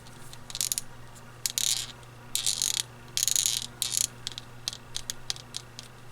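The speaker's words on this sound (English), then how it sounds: "that is the sound of a figure that is very tightly fitted" A tightly fitted Demoniacal Fit Tenacious Martialist action figure has its joints worked, giving short bursts of crisp clicking and ratcheting squeaks in irregular clusters. The sounds are close by and there is no talk.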